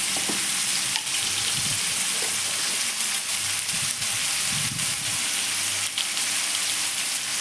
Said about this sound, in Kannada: ಸೊ ಅದಕ್ಕೆ ಟೊಮೊಟೊನ ಹಾಕಿ ಬೆರೆಸ್ಕೊತಾ ಇದ್ದೀನಿ.